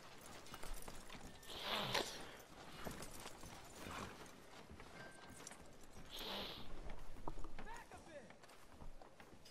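Horse hooves clop unevenly over a rough background in the video game Red Dead Redemption 2, with a voice speaking faintly at times.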